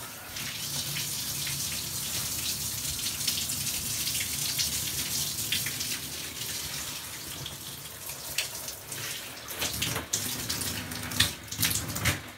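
Water runs steadily from a shower while glass panels are rinsed off after scrubbing, a continuous hiss with irregular splashes and spatters growing busier toward the end, nearby and moderately loud.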